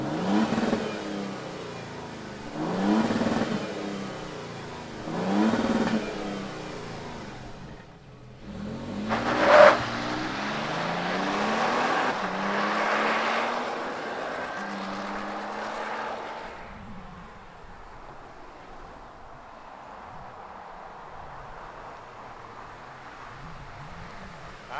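A 2023 Toyota Tundra TRD Pro pickup, a non-V8 engine, is started and revved in several rising bursts, fairly close and loud, then settles to a steadier, quieter idle.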